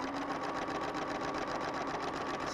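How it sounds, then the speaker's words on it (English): A sewing machine runs steadily at close range, stitching a patchwork piece for a log cabin quilt, with a fabric leader fed through first; the motor hum stays even and continuous, with no pauses and no voices. "just lift the foot, and then just continue sewing straight"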